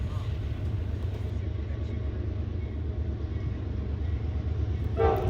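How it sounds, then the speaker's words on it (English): An eastbound oil train, a run-through freight off the CP at Bensenville, Illinois, rolling past near the Lewistown Depot platform in Pennsylvania; a steady low rumble of rail cars throughout, with a brief horn-like tone near the end. "This time it was another oil train, this one a run-through off the CP at Bensenville, Illinois"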